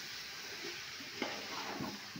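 Chicken curry sizzles in oil in a pan while a spoon stirs it, giving a soft steady frying hiss with a few faint scraping strokes.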